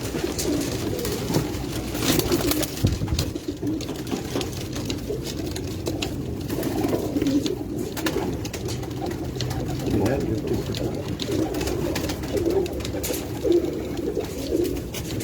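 Pigeons on a rooftop loft keep up a steady low cooing throughout, close and constant, while people talk over it.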